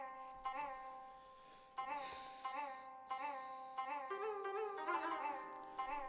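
Synth preset playing a descending melodic pattern with vibrato, for dark ethnic-style samples; tonal notes with wavering pitch follow one another in a steady phrase, alone and moderately quiet.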